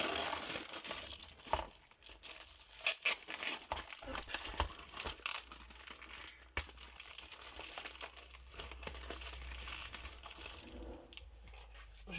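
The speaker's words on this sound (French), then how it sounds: "je vais peut-être pas parler en même temps que je déballe" Crinkly plastic packaging being unwrapped and crushed from a parcel in a craft-swap unboxing, with sustained close rustling, crumpling and occasional tearing, and no talking.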